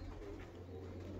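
Pigeons coo softly in a loft as they are shut in for winter, a low, steady murmur of close calls with no talking.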